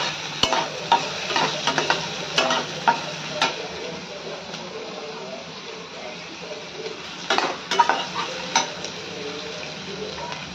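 Onion and curry leaves being sautéed in a pan for aloo matar poha: a soft background sizzle broken by repeated scraping and clinking strokes of a spatula against the metal.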